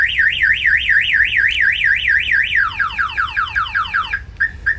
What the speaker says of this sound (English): Somebody opens the door, the alarm will fire off, and the truck won't start.